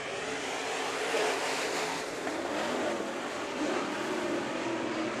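Race cars run side by side at Kern Raceway, a loud continuous roar of engines held at a fairly even level with broad rushing noise, no voices over it.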